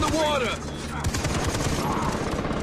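Rapid gunfire in the Far Cry 3 video game, loud bursts of shots rattling close by, with voices talking over the shooting.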